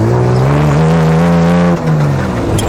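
A Baja car driving fast on a dirt track, its engine roaring loud and close with rising and falling pitch as it revs, easing briefly before pulling hard again.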